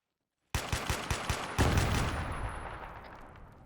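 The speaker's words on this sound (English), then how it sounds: "Shoot him, shoot him." Gunfire in the military video game Arma 3: a quick burst of several sharp shots, then one heavier blast that rings out and slowly decays, close and loud.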